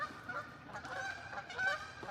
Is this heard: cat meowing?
no